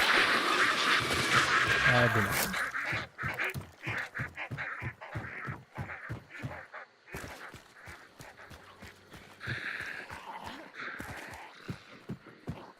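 Ducks in a video game quack in short bursts, fairly near, among clicky game sounds and brief pauses, while a person talks over them.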